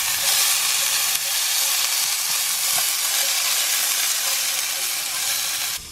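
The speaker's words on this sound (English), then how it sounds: "Just add that straight into the pan and give that a few minutes saute." Onion and garlic sauté in a pan in a small van kitchen, giving a steady, bright sizzling hiss that stays even and close throughout, with a faint clink partway through.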